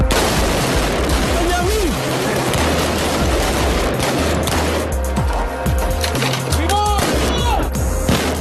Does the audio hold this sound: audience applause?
no